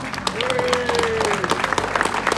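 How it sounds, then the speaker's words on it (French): Crowd applause at a French gathering of supporters, sustained clapping under a faint tonal voice or cheer, continuous and fairly loud throughout. "applaudissez-vous."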